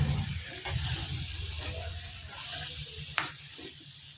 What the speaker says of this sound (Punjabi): ਹੁਣ ਆਪਾਂ ਇਹਨੂੰ ਹਿਲਾ ਦਵਾਂਗੇ ਮਿਰਚਾਂ ਪਾ ਕੇ